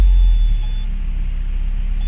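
Thunder from an approaching storm rolls as a loud, deep rumble that swells at first and then holds steady, with no talking.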